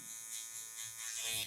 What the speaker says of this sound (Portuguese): Máquina de acabamento.